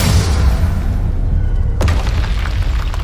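Casting the Defendo spell in Hogwarts Legacy triggers a loud, low continuous rumble, broken midway by a sharp shattering impact that rings on with scattered crackling debris.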